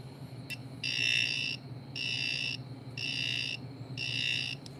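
A handheld electric screwdriver with current-sensing circuit detector beeps four times in a steady rhythm, each tone lasting about half a second, close and clear over low room hum.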